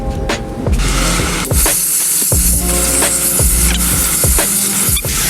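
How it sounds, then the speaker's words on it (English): Steady loud hiss of a sprayer applying chemical cleaner at close range to the bowls of a kitchen exhaust hood, with mechanical whirring and clicking running underneath throughout. "So now we're gonna start spraying the bowls."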